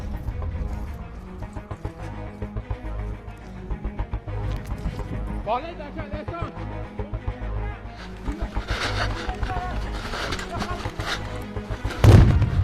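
Blasts and sharp gunfire-like bangs go off amid game noise during a bulletproof contest match, with a rough muffled rumble throughout and a louder burst near the end, while a voice talks over it.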